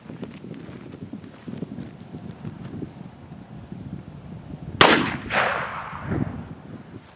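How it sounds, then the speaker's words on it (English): A single loud gunshot from a .38 Special revolver fired at a hay bale outdoors cracks sharply, then a rolling echo trails off across open ground. "Next is the 38 special revolver. I've got 6 rounds."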